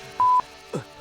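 A single steady telephone dialing tone sounds clearly for about a fifth of a second, followed by a brief muffled sound.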